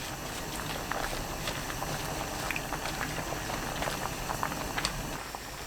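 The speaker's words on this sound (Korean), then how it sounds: "상추, 고추, 파 넣고 끓입니다." Korean lettuce doenjang soup with chili and scallion boiling in a pot, a steady close bubbling and popping that runs unbroken throughout.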